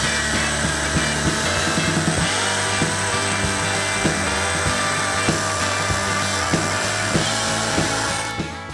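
A DeWALT cordless hammer drill runs continuously at high speed in hammer mode with a steady whine, punctuated by regular rapid hammering knocks, then winds down at the end.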